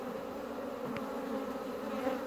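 A honeybee swarm hums inside an open hive while the colony is being split, a soft, continuous, even buzz with no talk over it.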